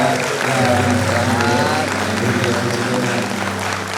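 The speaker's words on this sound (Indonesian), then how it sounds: "Boleh kita berikan sambutan tepuk tangan dulu ya" A wedding audience applauds the bride and groom, steady clapping spread across the room, loud and continuous, with voices and a low musical hum underneath.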